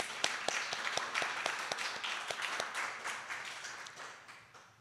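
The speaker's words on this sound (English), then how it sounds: "that does deserve a round of applause" An audience claps, with sharp individual claps over a steady wash of applause that gradually fades toward the end.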